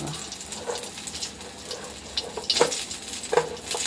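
Garlic hits hot oil in a frying pan alongside brinjal already fried with dried red chillies, giving a continuous sizzle with intermittent stirring scrapes and crackles.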